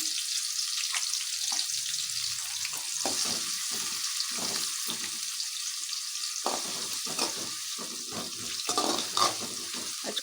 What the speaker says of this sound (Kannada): ಸ್ವಲ್ಪ ಚೆನ್ನಾಗಿ ಫ್ರೈ ಆಗಬೇಕಿದು ಈರುಳ್ಳಿ ಸ್ವಲ್ಪ ಗೋಲ್ಡನ್ ಬಣ್ಣ ಬರೋವರೆಗೂ ಚೆನ್ನಾಗಿ ಫ್ರೈ ಆಗಲಿ ಅದು